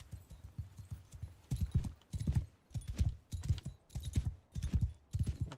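Horse archers' mounts in Mount and Blade 2: Bannerlord trot in a steady clip-clop of hooves, repeated rhythmic bursts of thudding steps, fairly close and clear with no talk over them.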